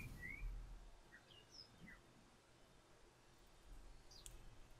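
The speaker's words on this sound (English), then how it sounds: "Some birds chirping out there." Birds chirp outdoors in a few brief, faint high calls scattered over steady low background rumble, with no one talking.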